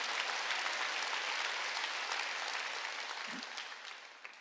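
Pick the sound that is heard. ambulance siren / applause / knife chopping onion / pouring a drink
applause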